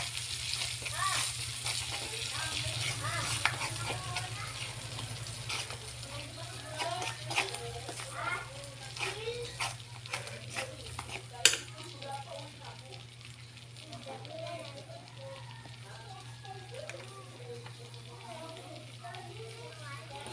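Pork cubes simmer in peanut butter kare-kare sauce with a low bubbling sizzle and occasional stirring clatter, while a voice talks over it and children can be heard in the background.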